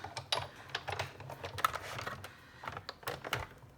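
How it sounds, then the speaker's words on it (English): A Big Shot die cutting machine pressing a die through card, heard as soft, irregular clicking and mechanical rattling, fairly faint and close, with no talk. "So we die cut through this whole piece here"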